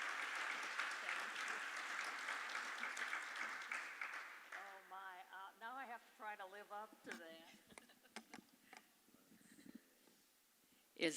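An audience applauds warmly for the first few seconds, a steady patter that fades as a speaker begins talking near the microphone.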